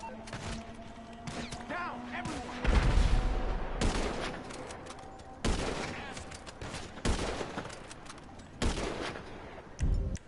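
Video game gunfire aimed at an aircraft cockpit, a series of loud separate bursts of shots and impacts every second or two over ongoing game noise, with a voice talking briefly partway through.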